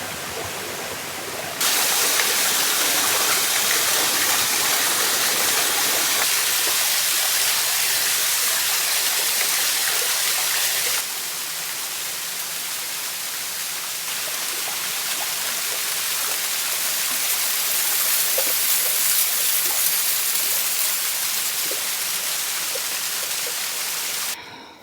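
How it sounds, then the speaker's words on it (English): A waterfall behind a campsite beside Comox Lake roars as a loud, continuous broadband rush that stays steady and dense throughout, with no voices. "I'm going to quickly go check out this waterfall that's right behind our campsite."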